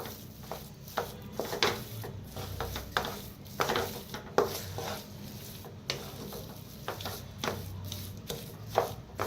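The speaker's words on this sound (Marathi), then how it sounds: "कोथिंबीर टाकूया. मिक्स करून घेऊया." Spiced potato vada filling is mixed with fresh coriander in a pan, heard as irregular soft scrapes, taps and clicks of a spoon against the metal, fairly faint and close, without speech.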